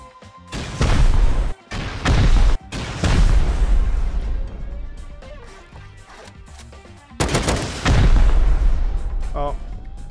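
Rocket launcher blasts during a base raid in the survival game Rust, with several heavy booming explosions and rumbling aftermath, loud and close, while a person talks over parts of it.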